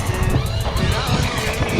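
A powerful Arrma Notorious 6S V4 RC car on its first bash, its electric motor whining and surging as it accelerates, a loud, steady high-pitched drive sound with repeated throttle pulses and rumbling tyre noise, close by.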